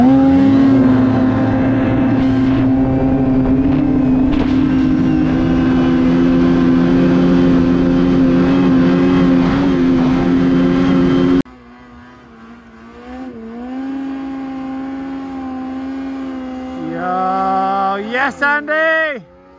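A Ski-Doo Turbo snowmobile at full throttle in a race, a loud sustained engine drone that drops away then rises again with higher revving whines, close and steady.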